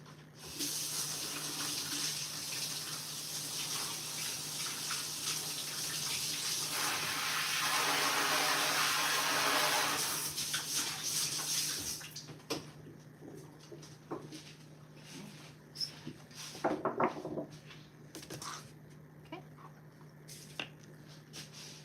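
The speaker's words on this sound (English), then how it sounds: "I'm going to rinse this off." Running tap water splashing steadily into a sink as food is rinsed, a loud broad hiss for about ten seconds before cutting off, followed by quieter clatter and handling noises.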